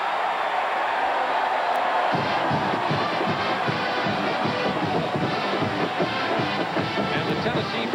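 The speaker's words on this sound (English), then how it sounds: "the Tennessee fans are 120 yards away from that, down in the far end zone to the other end, but they're cheering nevertheless" Tennessee fans cheer across a college football stadium after a touchdown in the 1989 game against LSU, a broad, distant roar of the crowd that swells partway through, with an announcer talking over it.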